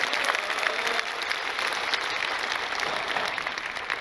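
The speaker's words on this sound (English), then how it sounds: "Give all of them a big round of applause." Seminar audience at a network-marketing recruiting event giving steady, full applause, moderately loud and continuous, with no speech over it.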